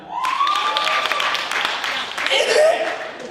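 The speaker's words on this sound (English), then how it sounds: "Clap if you've done it." Audience members at a live comedy show clap in response to a question, a scattered burst of applause mixed with whoops and laughter that swells again near the end.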